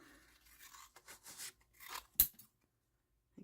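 Scissors make a few quiet, close snips and crunches while folded sewn pockets are being made, followed by near silence.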